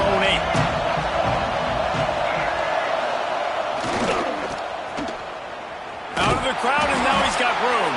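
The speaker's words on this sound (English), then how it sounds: "Listen to this crowd just shaking the girders of this place" A roaring football stadium crowd at a Michigan vs Penn State game fills the space with dense, sustained noise that dips slightly midway, then surges back loud with whoops and cheers, under a commentator's voice.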